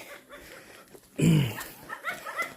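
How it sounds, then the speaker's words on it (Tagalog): A dog gives a short bark followed by softer yips and whimpers, fairly close in an outdoor setting. "may mga aso si tatay"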